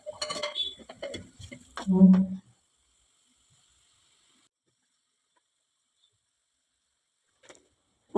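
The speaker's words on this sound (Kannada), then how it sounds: "ನಾಲ್ಕು ಟೊಮೆಟೊನ ಕಟ್ ಮಾಡಿ ಸೇರಿಸ್ಕೊಂಡಿದ್ದೀನಿ. ಹೀಗೆ ಚೆನ್ನಾಗಿ ಮಿಕ್ಸ್ ಮಾಡ್ಕೋಬೇಕು." A spoon scrapes and clinks against a pan while stirring four chopped tomatoes for brinjal gravy, with a couple of seconds of clatter and then silence.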